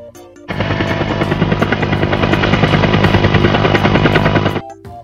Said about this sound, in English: Helicopter. Helikopter.